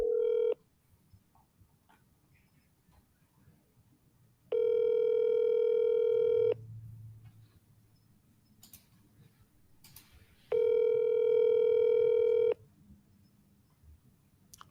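Telephone dialer placing outbound calls: two sustained steady dial tones about two seconds each, separated by quiet gaps holding faint clicks and brief blips, clean and close.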